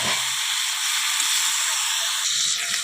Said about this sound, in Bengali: চিংড়ি মাছগুলো একটু ভেজে নিলাম, ভালো করে হালকা করে একটু ভেজে নেব